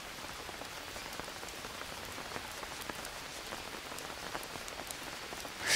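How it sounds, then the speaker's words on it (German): Steady rainfall in the survival video game Green Hell, a dense, even hiss of drops pattering on surfaces that stays uniform and fairly soft throughout, with no voices. "Ah, dieser tolle Regensound"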